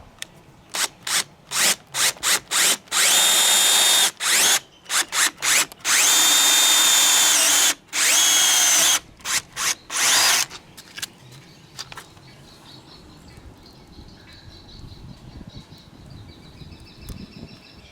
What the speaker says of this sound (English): So we're about to drill one kind of closer to the bottom and see what we got.